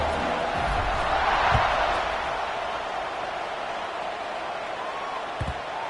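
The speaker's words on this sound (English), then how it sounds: "this crowd is buzzing after that last score" An American football stadium crowd keeps up a broad, steady roar that swells briefly and then settles into a sustained murmur, with a few scattered thumps, heard from a distance.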